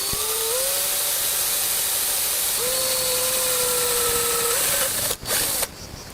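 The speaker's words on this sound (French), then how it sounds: "Le premier perçage, c'est le perçage de l'aluminium avec une mèche à métaux de 5 mm de diamètre." A power drill bores through an aluminium profile with a 5 mm metal bit while fitting a roller insect screen, a loud steady whine with a rising pitch that cuts out abruptly near the end.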